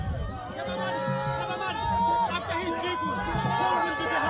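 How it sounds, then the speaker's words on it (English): Crowd of hundreds of supporters gathered at a bridge in Kalaji to welcome the president: steady babble and cheering close around, with voices talking continuously. "Hundreds of supporters are here at the bridge to welcome the president."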